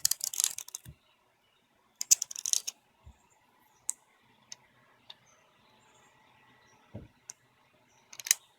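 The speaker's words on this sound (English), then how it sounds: "I'll just make another cut. The X-Acto blade cuts nice and smooth." An X-Acto blade cuts and smooths a small piece in short, scattered clicks and scrapes, some in quick bursts and others isolated, with quiet stretches between them.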